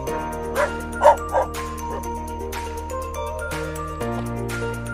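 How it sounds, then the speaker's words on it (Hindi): A black dog barks outdoors on a hill road in Uttarakhand, giving a few short yips and barks near the start over a steady engine-like hum, then going quiet. "वो काला वाला ज़्यादा भौंक रहा है।"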